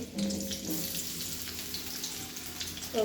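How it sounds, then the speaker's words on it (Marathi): Potatoes fry in hot oil for sabudana khichdi, giving a faint, steady hiss of sizzling with a brief watery bubbling, low in level and without talk. "आता तेल गरम झालेलं आहे. आता त्यामध्ये मी बटाटा टाकणार आहे."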